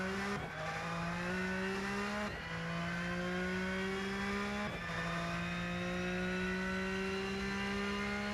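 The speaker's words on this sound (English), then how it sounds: "Just the sound in between shifts. Feels a little bit... You know, like the cutout of the engine." A race car engine in the Rennsport sim-racing game holds a loud, steady drone that climbs in pitch, then briefly cuts out at each of three upshifts before pulling up again.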